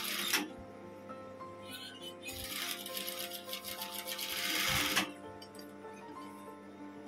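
A sewing machine stitches the front panel of a koko jacket, a steady mechanical whir with rapid needle ticks that swells through the middle and cuts off, leaving quieter machine hum at close range.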